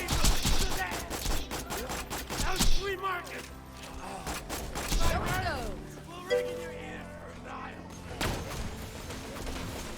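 Sandhawk gunfire in Borderlands, rapid loud volleys mixed with game effects and mechanical clunks, with a voice talking over them.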